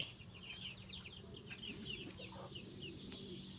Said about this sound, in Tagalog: Dito maraming manok.